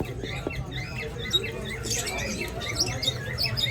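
Pet parrots and small cage birds at the Karachi bird market squawk and chirp in quick, overlapping bursts against a busy background murmur, with the calls close and fairly loud.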